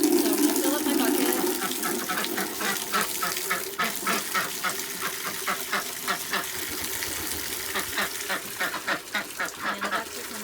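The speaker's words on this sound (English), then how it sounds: "And the ducks are coming." Several pet ducks, including a black one, quack repeatedly in quick, rhythmic bursts near a chicken coop, close and fairly loud, with some soft watery background sounds.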